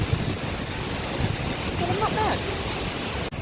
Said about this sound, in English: I just find it funny how this massive, powerful waterfall trickles down to this little peaceful river.